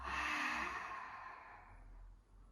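Exercise breathing during a back workout routine: a long, audible exhale fades out over about a second and a half, followed by quieter breath.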